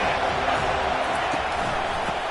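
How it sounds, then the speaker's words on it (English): A football stadium crowd roars steadily on a third down, a dense, continuous wash of distant noise that holds at an even level throughout. "3rd down, and this crowd is tearing the lid off this place."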